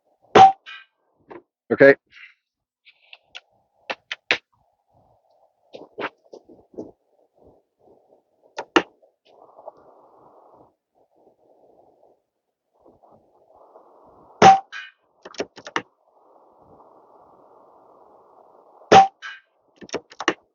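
An AirMaks Krait X .22 air rifle firing a string of pellets at a target: sharp, isolated clanging hits spread irregularly across a quiet background, with one short spoken word.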